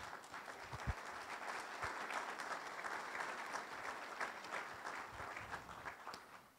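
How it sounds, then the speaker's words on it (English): Steady applause from a church congregation fills the room at a fair volume, a dense, continuous patter of clapping with no talk over it. "They don't clap here at St. Andrews, but you're getting applause, John, so that's good."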